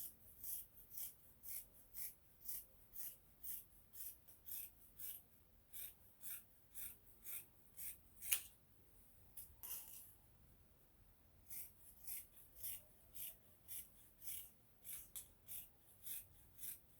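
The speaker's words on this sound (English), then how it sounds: "So I'm going to be cutting it out for you guys to see." Scissors cutting through ankara fabric for a shirred top, a steady run of crisp snips in regular rhythm with a short pause midway, close and fairly quiet with no talking.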